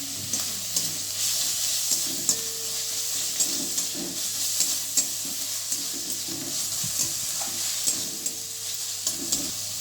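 Ginger garlic paste sizzles loudly in a frying pan with onion paste, a steady, hissing fry broken by soft scrapes and knocks of stirring, close and without talking.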